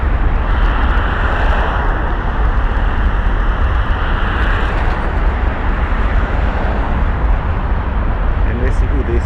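A jet airliner in a crazy taxi livery rolls toward the runway at Las Vegas's Harry Reid International Airport, giving a steady, loud engine rumble and roar that persists the whole time while a person talks over it.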